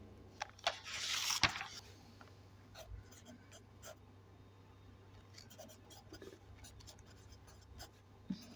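A pen scratches across paper in short intermittent strokes, with a busier burst of writing early on, faint and close against a steady low hum, with quiet talk in between.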